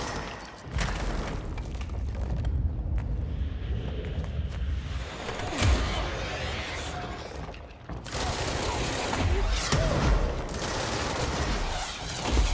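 Enemies fire rockets in the video game Control, with repeated heavy booms and bursts of gunfire in clusters, loud impacts with mechanical clatter between them and short quieter gaps.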